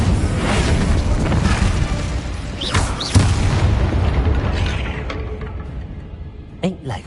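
A fire spell cast in Hogwarts Legacy, heard as a loud, dense roaring burst that fills the scene, with booming surges and a sharp crack near the middle before it tapers off into quieter game ambience.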